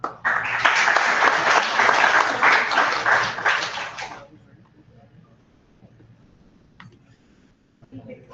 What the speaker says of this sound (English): Can I have a round of applause for Team Bubblecopter?